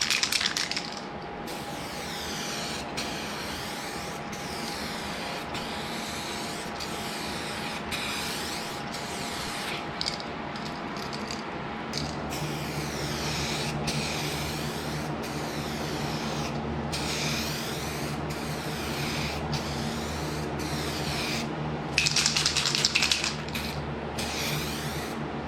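Aerosol spray coating car headlights during a home restoration: a long, continuous hissing spray held steady for about twenty-five seconds, close and fairly loud, with brief breaks and no talking.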